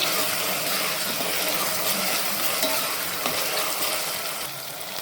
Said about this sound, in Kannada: ಒಂದು ಎರಡು ನಿಮಿಷ ಫ್ರೈ ಆಗಲಿ ಟೊಮೊಟೊ